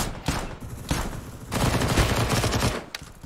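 Gunfire in an online shooter video game: rapid bursts and sustained volleys of shots, loud and close, running almost without pause.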